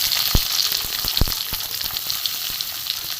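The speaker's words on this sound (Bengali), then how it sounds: "পেঁয়াজটা দিয়ে দিয়েছি, একটু ভাজা ভাজা হোক পেঁয়াজটা।" Onions frying in oil with chopped garlic in a pan, a loud continuous crackling sizzle up close with a few sharp utensil knocks and scrapes, no talking.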